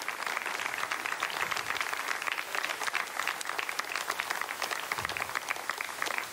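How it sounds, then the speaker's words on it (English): Sustained applause from a crowd in the ESOC mission control room after BepiColombo separates from its Ariane 5 launcher: dense, steady clapping throughout, fairly close and with no talk over it. "you can hear the applause"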